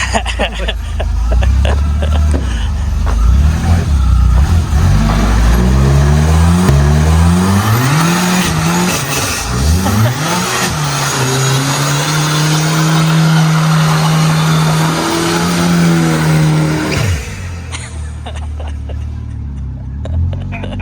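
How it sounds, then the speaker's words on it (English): A turbocharged Volvo 240 revs hard through a burnout attempt, its engine climbing and falling in repeated loud sweeps with tire squeal and skidding noise, holding a steady high rev for several seconds before cutting off, with brief voices afterward. "No, Nope, can't do a burnout."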